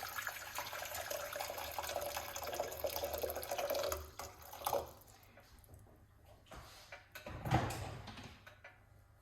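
Three cups of hot water pour steadily for several seconds, then break off into scattered splashes and a brief surge of liquid near the end.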